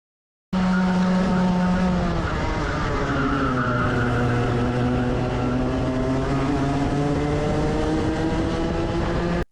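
A racing kart at Ellough track accelerates out of a corner, its engine note loud and close, rising and sweeping in pitch as it pulls away, with a tyre squeal mixed in.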